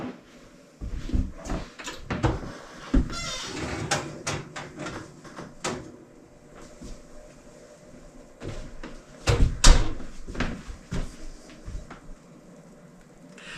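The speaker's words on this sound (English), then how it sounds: "Now I am ready to take it out of the oven." An oven door opens and closes in a home kitchen as a silicone baking pan is taken out, giving a few loud knocks and thuds among clatter, with no one talking.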